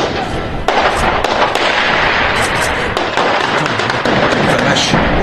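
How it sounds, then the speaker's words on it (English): Many sharp cracks of automatic gunfire ring out in rapid, irregular bursts, loud and echoing, with voices talking underneath. "A lot of automatic gunfire."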